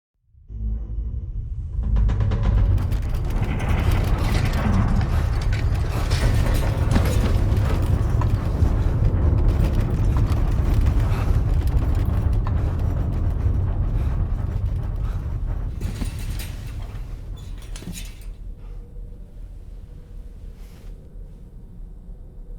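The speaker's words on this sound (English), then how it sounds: "That was a gatequake just now." A gatequake in Death Stranding 2: a long, deep rumbling roar that swells quickly, holds loud and heavy for over ten seconds with cracking debris on top, then slowly dies away.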